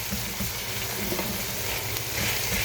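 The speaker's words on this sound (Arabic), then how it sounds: "اخلي البصل واخليه بعد يحمس ويا البصل" Onions fry in a pan in a dense, steady, close sizzle with faint stirring scrapes and no talking.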